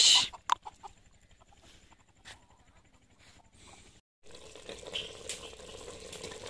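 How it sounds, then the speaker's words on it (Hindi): A rooster crows and clucks loudly at the start, with faint fowl sounds and running water from a tap continuing afterward at a domestic home during Eid. "मुर्गे साहब भी अपनी ईद मना रहे हैं।"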